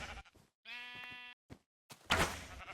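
A sheep bleats after being shot in a video game, a short clear bleat cry framed by sharp thuds and clicks, with a louder noisy burst closing the moment.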